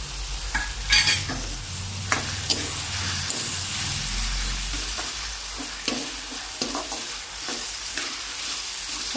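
Slit green chillies frying in oil in a pan, a steady bright sizzle with occasional crackles and spoon-stirring scrapes, close up with no talking.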